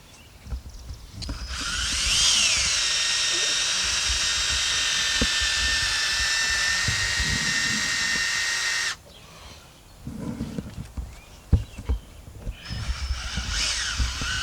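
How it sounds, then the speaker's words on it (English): A power drill grinds steadily through a seized wheel stud on a 2020 Detroit Gambler build, a loud sustained whine for several seconds that cuts off, followed by scattered clanks and short bursts of tool noise. "drilling out the stud"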